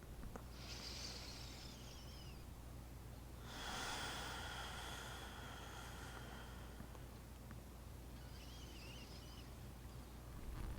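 Slow, deep breaths taken during a yoga leg stretch in a slow flow session, a few long, airy inhales and exhales close by over a steady low background hum, with no talking.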